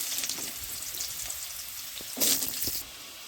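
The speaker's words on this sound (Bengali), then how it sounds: "এবারে কড়াইয়ে আর একটু তেল দিয়ে আমি আলুগুলোকেও ভেজে নেব ঠিক ওইভাবে।" Potato pieces fry in oil in a wok, giving a steady close sizzle with brief louder bursts as they are stirred.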